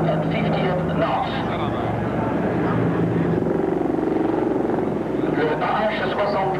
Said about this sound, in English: Le Ah-64 Apache est un hélicoptère armé biplace en tandem